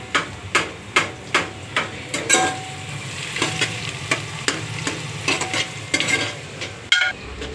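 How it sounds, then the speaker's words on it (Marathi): Onions being stirred and fried on full gas for chicken biryani: a spatula scrapes and knocks rhythmically against the pan about twice a second over a steady sizzle, close and fairly loud. "आता पप्पा हलवायला लागल्यात कांदा, म्हणजे जेणेकरून चांगला भाजावा"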